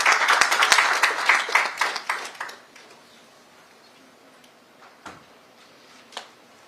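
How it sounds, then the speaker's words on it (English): Scattered audience clapping for a guest speaker at a cashew festival curtain raiser in Goa, a short burst of claps that thins out within a few seconds, followed by near silence with a couple of faint isolated knocks. "Please give him a big round of applause"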